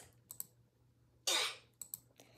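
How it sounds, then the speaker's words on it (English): Roblox's replacement death sound for the video game's old oof plays as one short, raspy, cough-like burst, set among faint scattered keyboard clicks. "now the new death sound sounds like this"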